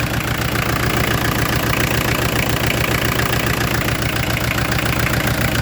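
Peugeot 205 TD diesel engine idling slightly rough, a loud continuous clattering rumble with a fast knocking pulse, close up and with no one talking.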